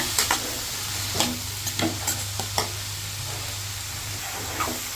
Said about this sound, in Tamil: நல்லா மிக்ஸ் பண்ணிக்கோங்க. கோல்டன் ப்ரௌன் ஆகணும்.